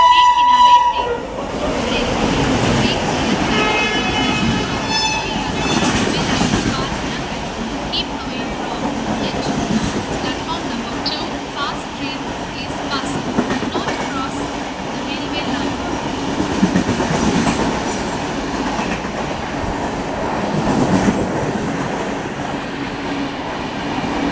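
A train horn sounds, then the heavy, continuous rumble and clatter of an express train rolling past a station platform, while a voice speaks over it.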